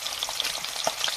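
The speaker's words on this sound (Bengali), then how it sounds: "এই যে মাছ ভাজা হচ্ছে এখন।" Fish frying in a pan gives a steady close sizzle with crackling spatters and a few louder pops, heard alone with no talking.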